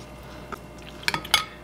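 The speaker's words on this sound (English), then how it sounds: "So I'm going to go ahead and mix this together." A dipping sauce for wraps is stirred together in a dish: a few sharp utensil clinks against the bowl, close and fairly quiet, with a short faint scrape before them and no talking.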